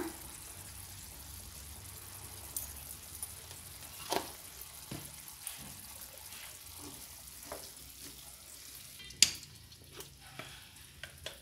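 Chopped chayote with turmeric sizzling in a hot pan, with a steady frying hiss broken by intermittent scraping clicks of stirring and one sharper knock near the end, without any talk.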